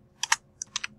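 Five crisp computer keyboard keystrokes in two quick bursts, close and clear against near silence.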